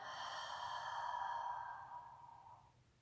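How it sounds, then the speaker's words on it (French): A long, breathy Ujjayi-style exhale through an open mouth, as if fogging a mirror, steady and soft for about two and a half seconds before trailing off, close and alone. "Et expirez en faisant de la buée."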